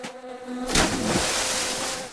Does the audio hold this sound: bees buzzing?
yes